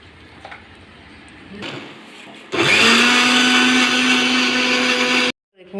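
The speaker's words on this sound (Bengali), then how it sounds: "এবার এইটাকে আমি মিক্সিতে পেস্ট করে নেবো।" An electric mixer grinder blends deseeded watermelon into a paste. Faint handling noises come first, then the motor whirs loudly and steadily for about three seconds before cutting off abruptly.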